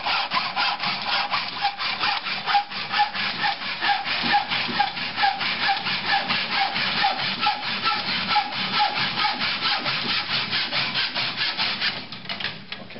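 A handsaw cuts through wood for a table top in steady back-and-forth strokes, close and loud, keeping an even rhythm for most of the stretch before easing off near the end.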